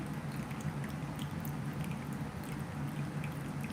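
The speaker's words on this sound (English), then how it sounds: "Personally, I love, love, love the sound of running water" Water running steadily from a tap indoors, a continuous even rush with faint splashy detail, moderately close and alone without speech.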